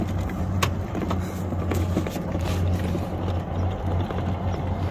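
An electric golf cart, just repaired with a new inductive throttle sensor, pulling away at wide open throttle with a steady, continuous drive hum close by and no talking.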